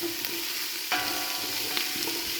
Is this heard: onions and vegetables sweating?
yes